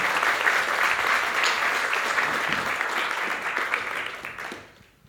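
Audience applause at a WordPress developer talk: steady, dense clapping from a room full of people. It holds for several seconds, then fades away at the end.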